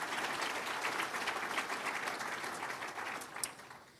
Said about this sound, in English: So let's give them a round of applause for the first nominee.